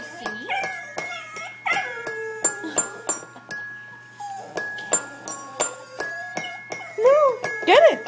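A dapple Dachshund howls in drawn-out, wavering tones while playing a piano, a person speaking in short phrases nearby, with repeated sharp clicks ticking through the recording.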